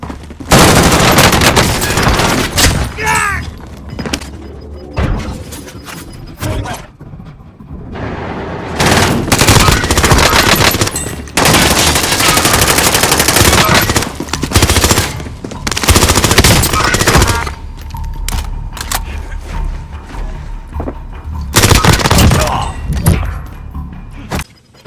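OTS 9 submachine gun fire in Call of Duty Warzone, loud repeated automatic bursts broken by short pauses, with thuds and game sounds between them.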